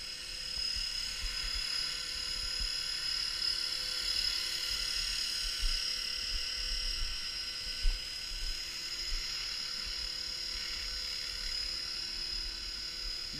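A Blade 450 3D RC helicopter flies outdoors in wind, giving a steady high whine and buzzing rotor drone that holds for the whole stretch, with a few soft bumps and no talk.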